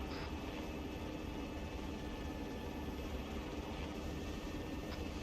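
A Chinook helicopter in the ArmA III video game drones steadily with a dense, broadband rotor and engine roar throughout, loud and constant, with no talking.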